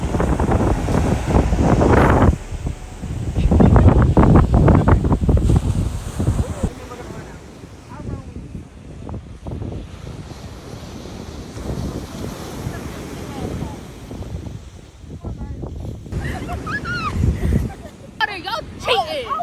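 Ocean waves break at a beach under heavy wind, with loud rumbling gusts buffeting the microphone and surf washing in and out, while several people talk and exclaim nearby.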